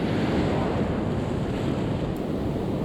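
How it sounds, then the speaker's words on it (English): Ocean waves surge into Petrel Cove on the Fleurieu Peninsula in South Australia, a loud continuous rushing wash of surf mixed with wind buffeting the microphone, with no voices. "that water races in with such force."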